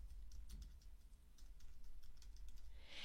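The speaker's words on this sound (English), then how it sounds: "I'm going to press the Return or the Enter key on the keyboard to add another line of type" Someone types steadily on a computer keyboard, with a string of light, quick key clicks in an irregular rhythm, close and fairly quiet over a low room hum, with no talking.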